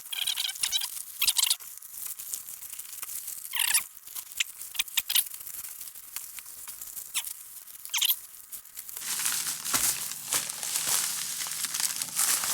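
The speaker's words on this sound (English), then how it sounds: "see me try and stuff this thing in this flat rate envelope" Someone stuffs an item into a flat rate shipping envelope: faint, quiet crinkling and rustling in irregular bursts, building to a denser, continuous scrunching near the end.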